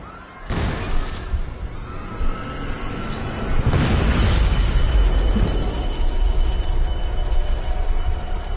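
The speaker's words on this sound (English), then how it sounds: "Explosions." Loud, booming blasts with crashing debris in the video game Deus Ex: Mankind Divided, a sharp burst early and a heavier rumbling one midway, followed by sustained roaring noise.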